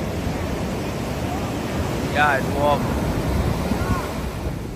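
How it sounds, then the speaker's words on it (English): Ocean surf rolling in at Kuta Beach, Bali, on a cloudy day: a steady broadband wash of waves with wind noise buffeting the microphone, while people talk briefly nearby. "No wonder people come here to surf. Look at the waves."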